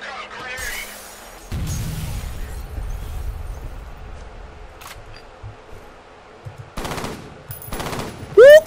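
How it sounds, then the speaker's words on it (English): A grenade blast and gunfire in the shooter F.E.A.R. Extraction Point, with a low, rumbling explosion followed by scattered sharp shots and bursts, fairly loud, with a person talking in between. "Look out, grenade!"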